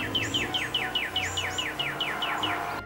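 A Northern Cardinal sings a series of about a dozen clear, repeated downslurred whistles at a steady rhythm, close and prominent over faint background hum.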